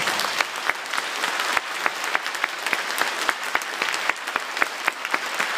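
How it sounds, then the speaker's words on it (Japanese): An audience claps warmly after a Kathakali dance-drama performance in Shichigahama, Japan, dense steady applause from many hands filling the room, with sharp individual claps standing out and no talking over it. "最後大きな拍手でお願いします"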